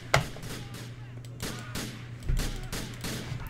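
Gunshots ring out in a video game as a few sharp, close cracks over a steady low hum, with a scattered handful of reports spread across a few seconds.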